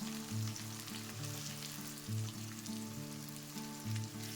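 Chopped onions fry in hot oil with whole garam masala, bay leaves, dried chillies, cumin and a pinch of sugar, a soft continuous sizzle and crackle under a pulsing low hum, faint and without speech.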